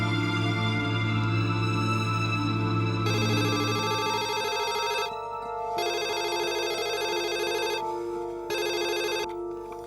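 A telephone rings loudly and steadily in a Indonesian drama scene, its electronic bell tone repeating in bursts with short gaps, alone without voices.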